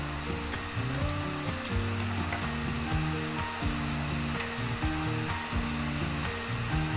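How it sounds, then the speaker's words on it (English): Tuna croquettes fry in oil over a medium flame, giving a steady, dense sizzle that holds its level throughout, close and unbroken, beneath a faint background hum and with no talking. "Fry it on a medium flame and fry this until it is nice and crispy and golden brown."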